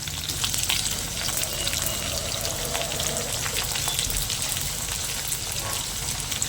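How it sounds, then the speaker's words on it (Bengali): Potatoes frying in oil with ginger garlic paste, a steady close sizzle and crackle that runs without break, with no talking. "আদা রসুন দেওয়ার পরে আলুটার সঙ্গে খুব ভালো করে আমি ভাজা ভাজা করে নেব।"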